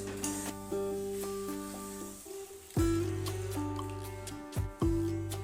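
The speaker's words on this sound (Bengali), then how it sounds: "এখন দিয়ে দেবো পরিমাণ মতো জল" Water poured into a pan of fried potatoes for an egg curry, giving a few bursts of splashing and hissing over steady pan noise, loud and close with no talking.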